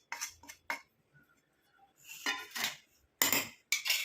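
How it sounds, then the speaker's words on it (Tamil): Ingredients for a natural hair dye are dropped and scraped into a mixer jar, producing a series of close, crisp clinks and rattling bursts separated by short pauses. "இதை வந்து நம்ம மிக்ஸி ஜாரில் வந்து ஆட் பண்ணிக்கலாம்."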